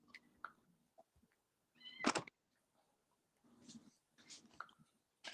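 A cat meows several times in short, separate calls with brief pauses, close and fairly quiet in an otherwise still room.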